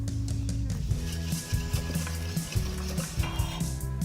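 A spoon steadily stirs a milk and ice cream base mixture in a bowl, producing a continuous soft swishing and sloshing that sits over a constant low tonal hum.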